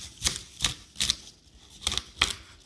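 A knife chops the ends off asparagus on a board: five crisp, evenly spaced cuts, close and fairly quiet, with no talking.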